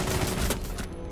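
A dense burst of loud video game 12-gauge shotgun fire, with several rapid blasts packed into a second, harsh and close.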